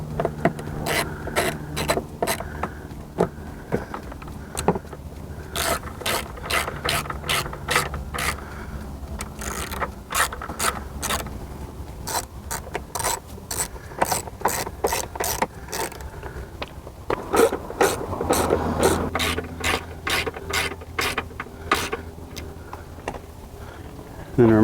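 Bolts being threaded and tightened with a ratchet on a Yamaha F300 outboard engine during 100-hour maintenance, rapid repeated clicking bursts in uneven runs across the whole stretch, close, with some low background hum and occasional talking.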